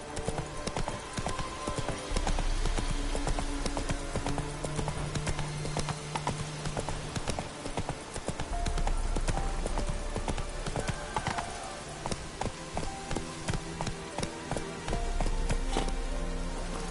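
Galloping horse hoofbeats in the video game The Witcher 3: Wild Hunt, a fast, steady clip-clop rhythm running throughout over game music and ambience.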